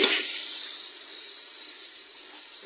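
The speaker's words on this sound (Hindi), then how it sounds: "इसको अच्छा भून लेंगे।" Chicken and onions sizzle steadily in a pot for chicken pulao, a continuous bright hiss of frying that holds even and fairly loud throughout, with no voices over it.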